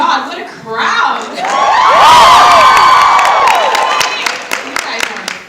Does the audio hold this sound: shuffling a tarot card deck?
no